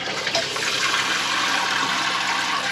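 Water streams steadily from a shower head in a camper, a loud, continuous broadband rush that holds unbroken from start to finish.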